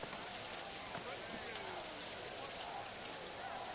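Steady rain falls throughout an outdoor football game, a constant dense hiss of drops with faint crowd and field sounds underneath.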